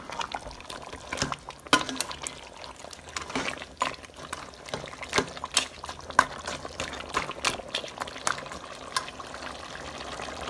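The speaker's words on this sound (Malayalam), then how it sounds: "തിളച്ച് കറിയിലെ വെള്ളം വറ്റിച്ച് വരട്ടിയെടുക്കണം കേട്ടോ." Goat head curry simmering down in a pan, a thick bubbling and popping with irregular sharp plops and spits over a soft continuous boil, close and fairly quiet.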